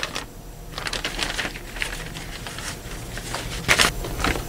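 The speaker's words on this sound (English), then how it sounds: "I'm just going to crumple this up so there's some air pockets so it lights really well" Paper torn in half for bee smoker fuel is crumpled by hand up close, giving a continuous crackling rustle with a few sharper crinkles near the end.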